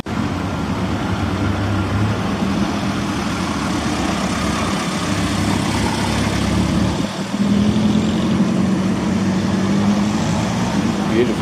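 An old Chevrolet car's engine runs at a vintage motoring rally, giving a steady, moderate low rumble with wind noise throughout and a slight change near the end.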